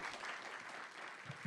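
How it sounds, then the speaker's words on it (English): At a County of Monterey Board of Supervisors meeting, the audience gives a brief, even round of applause for Jesus Lopez, a faint continuous patter of many hands. "So we could give Jesus Lopez a big round of applause as well."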